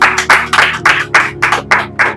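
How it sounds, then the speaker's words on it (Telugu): A church congregation clapping loudly in unison during worship, nine sharp, evenly spaced claps in a steady rhythm, close and forceful, with no talk. "గట్టిగా చప్పట్లు కూడా దేవునామాని మహిమపరచాలి"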